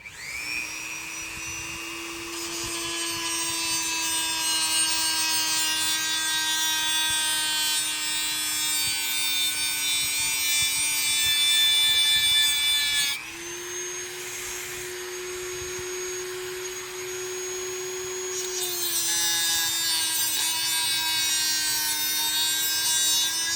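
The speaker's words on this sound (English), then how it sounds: "Dremel 3000 is what I got. You can use any type of Dremel. Have a little small cutoff wheel on here" A Dremel 3000 with a small cutoff wheel cuts through a front wheel bearing from a 2001-2005 Honda Civic, making a loud, steady high-pitched whine whose pitch dips and recovers as the load on the wheel changes.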